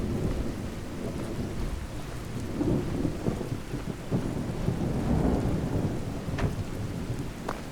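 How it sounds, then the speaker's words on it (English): A thunderstorm rages in the video game Fallout, with a constant roar of heavy rain and deep rolling rumbles of thunder swelling and fading, plus a few sharp cracks, with no voices. "the storm is loud"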